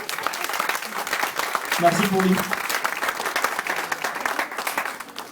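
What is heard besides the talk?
audience applause for the DJ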